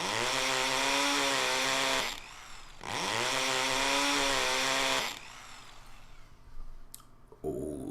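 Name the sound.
chainsaw then drill sound effect in The Fruit of Grisaia video game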